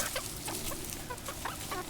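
Several hens cluck and squawk in short, irregular bursts while competing over food, close by and moderately loud over a quiet farmyard background.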